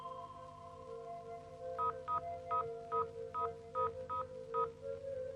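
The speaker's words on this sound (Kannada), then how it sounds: "ನೀವು ಮೊದ್ಲು ಆ ರಘುರಾಮ್ಗೆ ಫೋನ್ ಮಾಡ್ಕೊಡ್ರಿ." Someone dials a telephone number in a Kannada thriller film: eight evenly spaced keypad beeps sound clearly over a steady low electrical hum.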